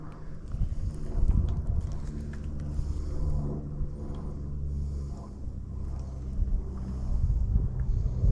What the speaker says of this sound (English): It's gotten windy